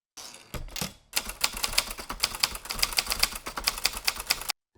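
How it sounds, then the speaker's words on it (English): A manual typewriter clatters in a fast, steady run of sharp keystrokes after a couple of brief opening strikes, close and loud, with no voice over it. "Typing briefly, he wrote,"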